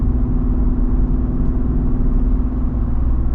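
A 2024 Jeep Wrangler 392 AEV Edition with a V8 on 37-inch tires drives along, its deep engine rumble steady and loud from inside the cabin, with no talking.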